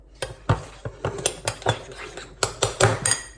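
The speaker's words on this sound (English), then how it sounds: "So all you do is stir it up." Metal cutlery clinks and scrapes against a bowl while a pork salad is stirred, with about a dozen sharp, close taps and scrapes in an uneven rhythm and no talking.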